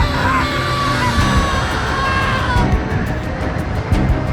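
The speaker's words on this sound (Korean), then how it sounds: "심장이 지주하는 기분이 전해지며 입 밖으로 비명이 새어나왔다" A person screams while falling off a cliff, rendered as a sound effect: a loud, strained yell with a falling pitch, carried over a dense rush of wind and noise that continues throughout.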